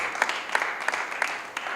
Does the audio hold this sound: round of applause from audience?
yes